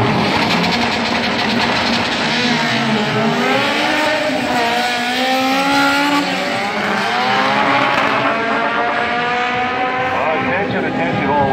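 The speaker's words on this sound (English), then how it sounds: "drag bikes, for real." Drag racing motorcycles roar loudly and continuously at a night car meet, their engine pitch sweeping up and down in overlapping waves with crowd noise in the background.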